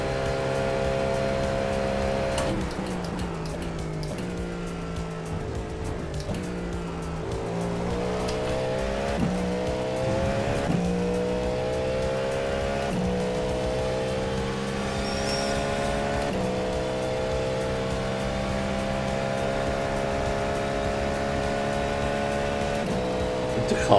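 Race car engine droning steadily in a Le Mans 24 Hours racing game, the pitch rising and falling through gear changes, with occasional tire noise under a constant loud engine tone.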